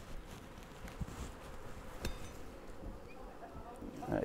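Honeybees hum around an open Flow Hive during a brood inspection, a soft continuous buzz close by with occasional knocks and rustles of the hive frames.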